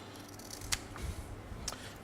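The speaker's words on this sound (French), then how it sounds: "On coupe tous les nageoires." Scissors snip twice at a whitefish's fins, with short crisp cuts heard close against a quiet background.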